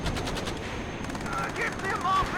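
An NSVT 50 cal machine gun fires in the WARNO war video game, with rapid repeated bursts of shots, while other combat noise and faint voices run underneath.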